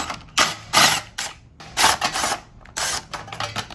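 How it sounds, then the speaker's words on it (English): A size 5 Allen socket on an extension clicks in short, quick ratcheting bursts while backing out screws from the side cowling of a CFMOTO Ibex 800 motorcycle, close and sharp. "grab my size 5 Allen socket with the extension and remove these two screws holding the cowling on the side"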